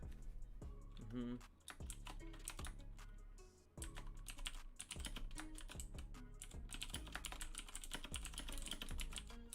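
Computer keyboard typing during a live home workout Q&A stream, steady rapid clicks and clacks throughout, close to the microphone, with some background tones mixed in.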